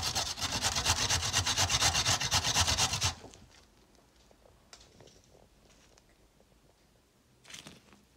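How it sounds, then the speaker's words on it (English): Raw fresh turmeric root grated by hand, a loud, rapid rhythmic rasping for about three seconds, then stopping, followed by faint scattered handling noises. "Just grate it."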